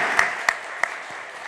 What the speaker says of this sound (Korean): 이 모든 자리를 인도해 주신 하나님께 영광의 박수 올려드리기 원합니다.